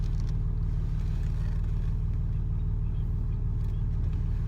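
A Ford Territory with a 2.7L turbo diesel V6 and its muffler deleted drives along, its deep exhaust rumble droning steadily and loudly up close with no pauses.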